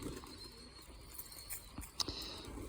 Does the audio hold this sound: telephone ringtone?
no